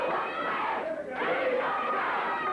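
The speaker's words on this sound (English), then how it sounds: "And you can hear the crowd picking it up." Crowd at a classic Georgia wrestling match chanting for the mask, a dense, steady roar of many voices filling the arena, loud and continuous throughout.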